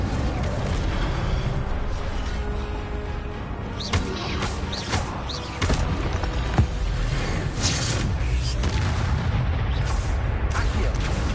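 Incendio fire spells cast in a Hogwarts video game, a string of sharp bursts and booming flares popping over a constant roaring game background, repeating irregularly throughout.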